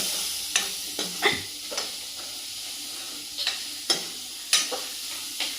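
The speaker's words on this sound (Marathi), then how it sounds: "कांदा मस्तपैकी नारंगी सोनेरी होईपर्यंत तळत राहायचं त्याला शॉलो फ्राय करायचं" Onions shallow frying in oil until golden orange, a steady close sizzle broken by several sharp scraping stirs of the spatula, with no voices.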